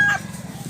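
A gamecock rooster offered for sale lets out a brief, clipped crow fragment at the very start, then only low background rumble follows.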